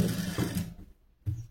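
A tailoring sewing machine runs an edge stitch along cloth piping, whirring in two short bursts close by, with a pause of near silence between them.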